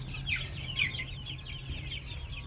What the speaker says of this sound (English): This is our chicks. There are about 80 of them.